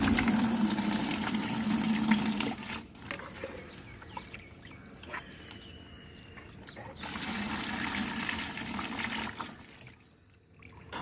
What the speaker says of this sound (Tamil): நல்லா வடிகட்டி எடுத்துக்கோங்க.